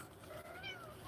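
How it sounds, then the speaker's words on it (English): Indoors, a house cat gives a soft, drawn-out meow, faint and brief, with no other sound around it. "the cats are here, and they're doing their little meow"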